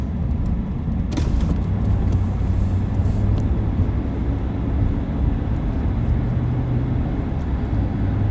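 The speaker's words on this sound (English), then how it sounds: "Right now we're driving over towards West Knoxville." A car drives toward West Knoxville, Tennessee, giving a steady interior road rumble and engine drone throughout, with one sharp brief click early on.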